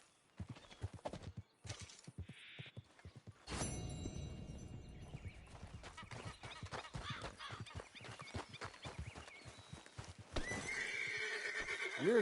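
A horse in the Red Dead video game clip-clops in a steady rhythmic gait, then gives a loud whinny near the end, close and clear over a muffled game backdrop.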